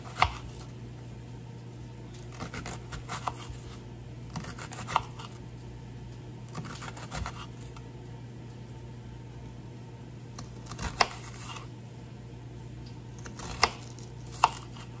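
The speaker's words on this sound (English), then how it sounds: "We're gonna go ahead and just chop them nice and thin." Vegetables are chopped thin on a cutting board, with a knife tapping in irregular quick bursts over a steady low hum.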